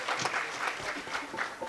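Audience applause for Krishna Gopal Vidyarthi at a Haryanvi comic poetry stage event, a steady wash of many hands clapping in rapid uneven bursts for under two seconds.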